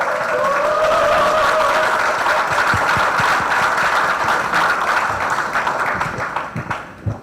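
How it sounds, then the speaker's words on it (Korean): A seminar audience marking World AIDS Day claps for the staff of the Korean Family Health Association: a sustained, even round of applause that thins out near the end, with a faint steady tone beneath. "이제까지 걸어온 한국가족보건협회 임원에게 큰 박수를 부탁드립니다."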